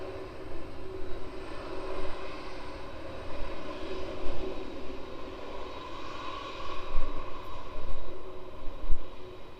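A Boeing 767-300 arrives from New York JFK at East Midlands Airport in wet weather. Its steady, broad jet roar stays moderately distant and swells and fades gently throughout, with no voices.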